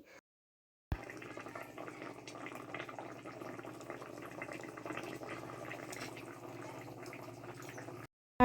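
Food cooking on a clay stove (unoon), a soft continuous bubbling and simmering hiss that runs steadily for several seconds after a short silence, faint and close with no voices.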